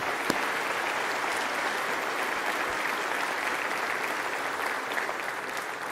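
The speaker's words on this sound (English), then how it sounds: "Let's give all of those folks a round of applause" An audience applauding at an event introduction, dense steady clapping that holds evenly at moderate level for several seconds with one or two louder individual claps.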